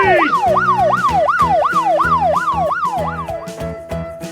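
A toy police car's electronic siren wails in a rapid, steady rising-and-falling cycle, loud and close, with a mechanical backing rhythm beneath it before it winds down and stops near the end.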